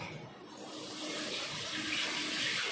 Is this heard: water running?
yes